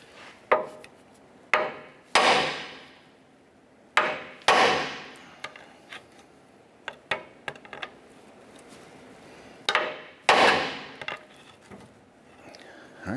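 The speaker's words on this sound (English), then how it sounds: "We're going to strike our knuckle here to release our lower ball joint." A hammer strikes the steering knuckle of a 2008-2012 Honda Accord to free the lower ball joint, giving about a dozen sharp metallic blows at irregular intervals, close and loud, with some lighter taps between them.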